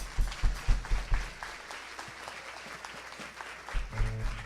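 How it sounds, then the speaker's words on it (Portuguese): Church congregation claps in praise, a wash of hands at moderate volume with a few stronger bursts early on, fading slightly before a low musical tone enters near the end. "Pode dar um aplauso a Jesus?"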